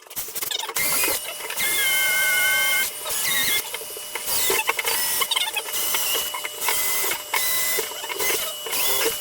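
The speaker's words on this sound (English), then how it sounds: "So we've got a few more screws to go, making sure that this panel is in safely" A power driver runs screws into a shower tray panel built from marine ply and Hardie backer board: several sustained whirring bursts with high squealing tones, separated by brief pauses, close and loud with no speech.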